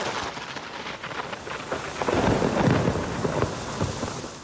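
A thunderstorm over the Gulf Coast community of Grand Isle, Louisiana: steady heavy rain with rolling thunder that swells louder midway and keeps rumbling.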